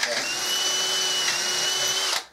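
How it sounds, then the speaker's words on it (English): A power drill bores a hole out slightly larger in an alloy part, running at a steady, loud whine for about two seconds before stopping abruptly. "What I'm going to have to do is drill that hole out just a shade bigger first to get the tap in."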